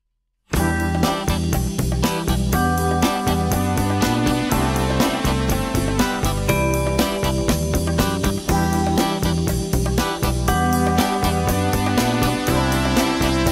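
Recorded music begins after a brief silence and plays loud and continuous with a steady beat, bass and layered instruments, no talk over it.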